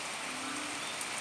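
Steady morning rain behind a house near the Pattani River in Thailand, a brief, continuous wash of fine drops at an even level with no talk.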